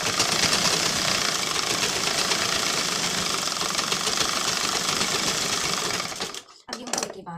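A sewing machine runs in a steady, continuous whir while stitching the lining of a blouse, close and loud, then stops abruptly near the end with a few short bursts.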